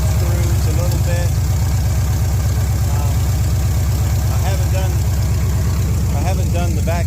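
The engine of a 1971 Chevrolet C-10 pickup idles steadily after a first tune-up, a loud, even low rumble with a regular pulse running throughout while someone talks over it.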